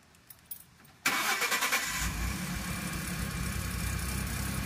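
A couple of quiet clicks, then a car engine cranks with rapid pulses and catches, settling into a steady rumbling idle.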